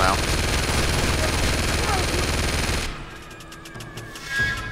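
Rapid automatic gunfire in the video game Uncharted 2: Among Thieves, set in a monastery, a loud dense volley for about three seconds, then fainter scattered shots.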